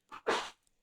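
A single short sneeze during a podcast conversation, close and fairly quiet, with a small intake of breath just before the main burst and then silence.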